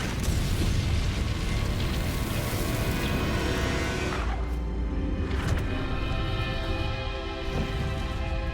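A loud, roaring fire blast from the Incendio spell in the Hogwarts Legacy video game, a dense sustained whoosh with booming impacts that thins out into crackling tails near the end.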